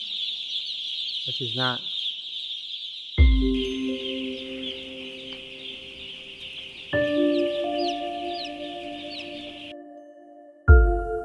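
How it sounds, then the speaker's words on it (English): Baby chicks chirp continuously in a high, steady chorus of peeping, with a few louder clucking calls from a hen; a voice speaks briefly over them and low electronic tones sound in the background. "you can listen and hear all these chicks are crying. They're chirping for their mother."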